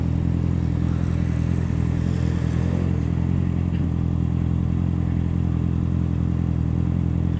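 Honda CBR 650 R motorcycle being ridden, a loud steady engine drone with wind rumble throughout, heard from the rider's position without speech.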